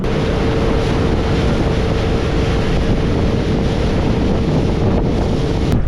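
Strong wind buffeting the microphone on a river, a loud continuous roaring rush with a faint steady hum underneath and no speech.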